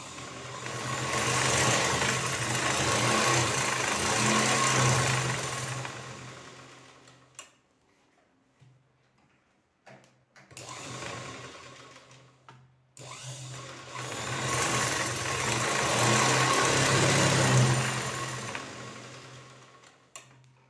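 A sewing machine stitching blouse fabric, two long steady runs of rapid whirring with a brief pause and a short start between them, close and loud.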